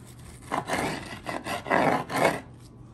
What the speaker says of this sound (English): So we're going for a slice right here.